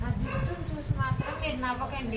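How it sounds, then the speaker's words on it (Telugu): A dog barks a few times close by while a person keeps talking over it. "కుక్క అరుస్తుంది"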